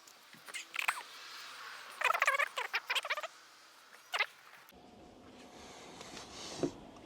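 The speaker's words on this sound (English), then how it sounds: "There's been this cricket following me" A cricket chirping in a few short, scattered bursts of squeaky calls, fairly quiet and close, with no talking.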